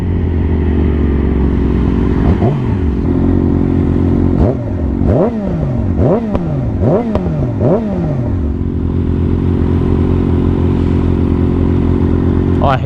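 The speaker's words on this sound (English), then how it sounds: "Jeez, this bike is so loud." A loud 600cc motorcycle engine idles with a deep steady rumble, then revs several times in quick rising and falling surges before settling back to idle.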